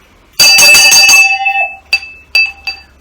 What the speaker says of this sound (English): brass and turned handle bell that reads Captain's Table